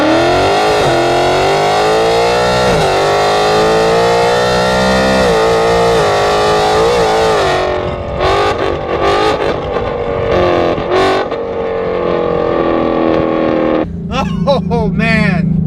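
2018 Ford Mustang GT with catless headers, active exhaust, JLT intake and E85 fuel, revving loud and close: a long sustained rising pull, then sharp throttle blips and a final rise.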